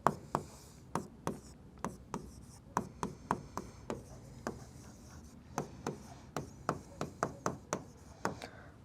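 Pen strokes on paper while working a Class 9 geometry triangle problem, a quiet series of sharp scratches and taps in irregular bursts, close and soft, with no talk.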